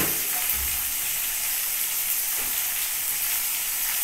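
Spices for a curry-leaf red lentil dal fry in a pan, giving a continuous close sizzle and hiss that stays even throughout, with a faint low knock near the start.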